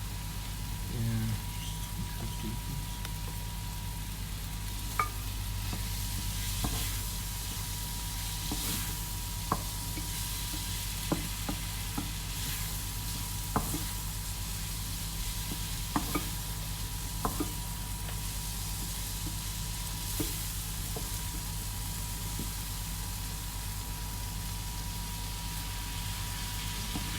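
Onions sauteing in a pan during an Easter cooking demo, a steady low sizzle with occasional light clicks of a spoon, fairly faint and continuous throughout.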